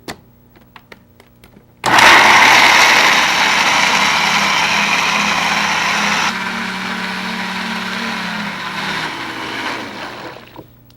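A kitchen blender whirs loudly up close as it purees cashews with water, starting abruptly after a few light clicks. It runs steadily, drops to a lower pitch partway through, then winds down and stops.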